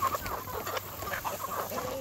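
A flock of free-range chickens clucks in a steady, busy chatter close by, with no talk over it.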